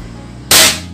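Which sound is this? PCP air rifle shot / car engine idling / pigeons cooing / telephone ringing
PCP air rifle shot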